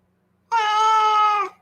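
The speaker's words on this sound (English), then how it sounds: "there's a cat that constantly sounds like it's going to attack you here." A cat lets out a single loud, drawn-out yowl lasting about a second, harsh and threatening as if ready to attack, close by with no talk over it.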